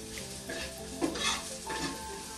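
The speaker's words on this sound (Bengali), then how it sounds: "পেঁয়াজটাকে সামান্য ভেজে নেব খুব বেশি ভাজবো না" Onion frying lightly in a pan for a spicy snack, a steady close sizzle with a few stirring scrapes breaking through, no voices.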